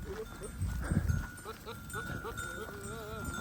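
Billy goats bleating several times in a busy farmyard with sheep, with people talking over the calls and a steady background hum.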